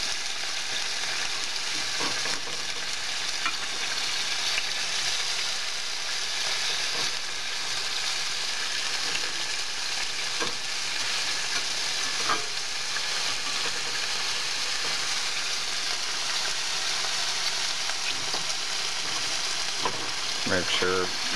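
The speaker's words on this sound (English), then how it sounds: "let the chicken cook for about 6 to 7 minutes." Chicken pieces fry in a pan for a Chinese stir fry, a continuous close sizzle and crackle with occasional stirring scrapes, holding steady and loud throughout.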